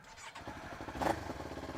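A motorcycle engine with a new exhaust idles and rumbles steadily nearby, swelling briefly in a short rev before settling back.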